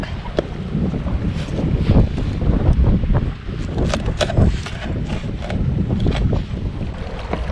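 Sea waves washing in at a Mindoro shore during an overnight camping and fishing trip, heard as a rough, continuous surging rush heavily mixed with wind buffeting the microphone.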